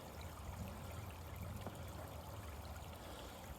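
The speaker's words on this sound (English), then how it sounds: "You gotta love these little streams running down the trail." Small streams trickle down a mountain trail near Harrison Hot Springs, a faint, steady wash of running water with a low rumble of distant road traffic beneath it.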